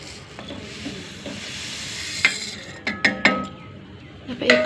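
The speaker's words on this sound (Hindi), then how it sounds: "चाशनी हमें चलाते हुए बनानी है ऐसे" Spoon scraping and clinking against a pan as sugar syrup is stirred, with a soft sizzling bubble underneath and a few sharp metallic taps.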